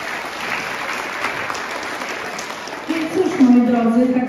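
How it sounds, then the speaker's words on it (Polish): Audience applause at a school Erasmus project final show, a steady broad wash of clapping throughout that swells near the end as a voice calls out over it. "brawa dla nich wszystkich"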